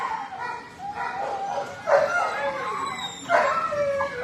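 A little Chihuahua gives a few short, high yips and barks, spaced apart and fairly close, with quiet whimpering in between.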